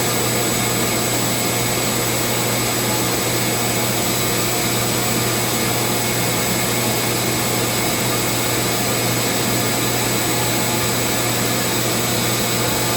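A Dremel rotary tool with a burr carving a wooden friendship staff gives a steady, loud high-pitched whir that drones on unbroken and close up throughout, with no talking.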